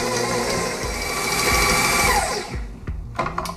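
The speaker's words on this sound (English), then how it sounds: "I'm just gonna mix this until it's all combined." A stand mixer whirs through carrot and raisin muffin batter with a paddle, a loud steady motor drone that winds down and stops, followed by a few clanks.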